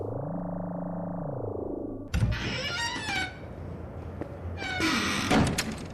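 The TARDIS door control is slammed down, setting off a sci-fi door effect: a low droning hum sweeps and then drops away, followed by a sharp thunk and hissing, whooshing mechanical bursts that rise loud near the end.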